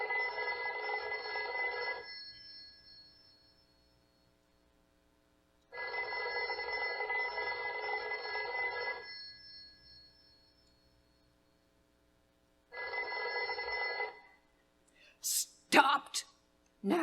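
An old-fashioned telephone bell rings in three long bursts separated by silent pauses, fairly close and clear, in a radio drama; a few faint breaths and small noises follow the last ring.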